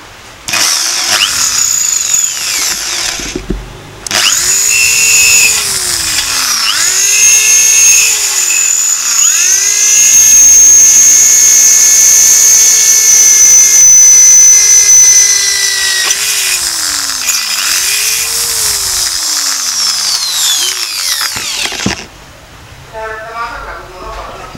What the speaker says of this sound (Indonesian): sekarang kita coba untuk bor besi